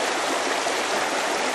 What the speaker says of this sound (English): You just fill the bottle up,